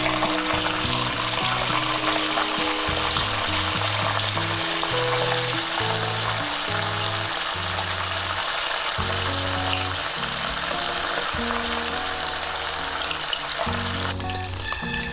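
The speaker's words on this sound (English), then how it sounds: "Once you are done placing the meatballs in the oil" Mutton keema meatballs frying in hot oil over a medium flame, a steady broadband sizzle that holds for the whole stretch beneath a loud, repeating low musical tone.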